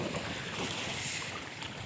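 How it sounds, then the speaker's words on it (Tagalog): Strong wind buffets the microphone on an island in Mindoro, a steady broadband roar that holds constant throughout with no voices. "So malakas yung hangin ngayon."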